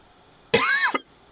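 A single short, sharp cough, close and clear against a quiet background, with a brief catch at its end.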